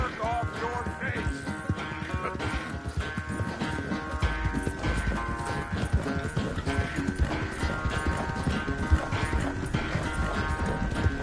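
Horse hooves clip-clop in a steady, rhythmic run throughout a PS4 video game scene, fairly close and clear, layered over a continuous musical score with no voices.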